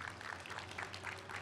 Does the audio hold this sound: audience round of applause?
yes